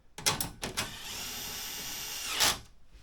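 A power screwdriver whirs steadily as it drives a screw to fasten corner trim onto a jacket, starting with a couple of short bursts, then running in one sustained buzz before cutting off, close and clear.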